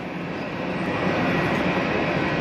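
A Eurowings airplane at Hamburg airport gives a steady, broad engine roar that holds fairly loud and even throughout, with no talk over it.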